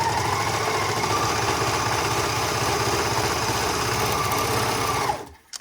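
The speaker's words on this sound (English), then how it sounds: "we're then going to overlock this edge closed" An overlocker sewing machine runs in a fast, steady, whirring stitch while finishing a fabric seam edge, close and continuous, then stops abruptly at the end.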